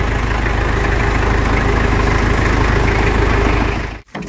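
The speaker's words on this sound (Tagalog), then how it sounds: "Ganyan po yung tunog ng makina." A customized Mitsubishi L300 van's engine idles steadily and loudly up close, a constant low rumble that cuts off abruptly near the end.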